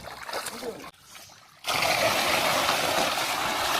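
Catfish in a rural Vietnamese pond thrash and splash at the surface while eating feed, a loud, continuous churning of water after a brief lull, with people talking nearby.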